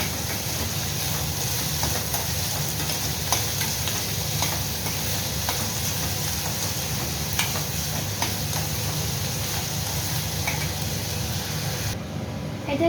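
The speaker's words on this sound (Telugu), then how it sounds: "దీన్ని మిక్స్ చేసేద్దాం." Broccoli and onions fry in a pan under a constant loud sizzle and hiss, with scattered clicks from a utensil stirring and mixing throughout, close up and steady.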